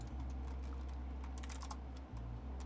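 Keyboard typing on a computer, quick clicky keystrokes over a steady low hum, with a short burst of closely spaced key taps in the middle and a few isolated presses near the end, no voices.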